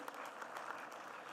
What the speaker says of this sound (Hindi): उनके लिए जोरदार तालियां कर जीवर्धन जी के लिए